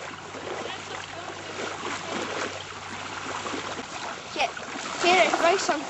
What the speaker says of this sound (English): Grace, I'm changing the fish's water